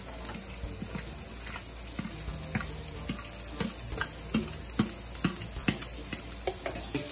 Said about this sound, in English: I'm gonna go ahead and add my saltfish in this frying pan here